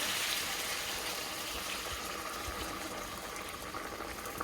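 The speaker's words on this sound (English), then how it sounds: "And now to add my hot water." Hot water pours steadily into a pot of stewed pork, a continuous close hissing splash that holds at an even level for the whole stretch.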